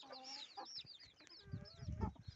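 A desi country hen clucks in short repeated bursts close by, with high chirping of small chicks scattered throughout and some low rustling.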